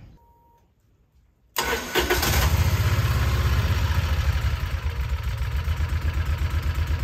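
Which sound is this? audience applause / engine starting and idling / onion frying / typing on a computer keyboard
engine starting and idling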